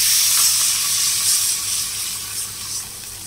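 Water poured into a pot of lightly fried onion and garlic while cooking a tangy Assamese lemon fish curry, a steady close hiss and splashing sizzle that gradually eases, with no voices.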